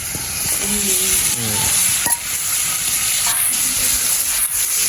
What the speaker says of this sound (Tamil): வெங்காயம் கருவேப்பிலை எல்லாத்தையும் போடும்